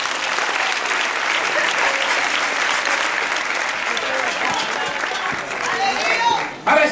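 A church congregation applauds loudly and continuously, dense crowd clapping close up, with voices mixed in and a brief dip near the end.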